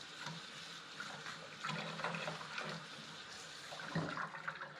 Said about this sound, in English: Empty out your water.